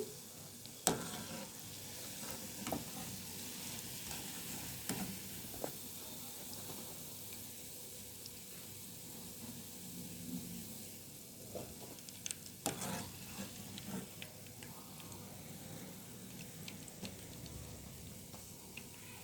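Gulab jamun dumplings frying in hot oil, giving a steady low sizzle with occasional sharper pops and stirring clinks throughout, fairly quiet and with no talking.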